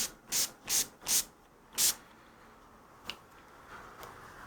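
Fingerboard cleaner sprayed onto a guitar fingerboard in four quick hissing bursts, close and distinct, followed by quiet faint handling noises.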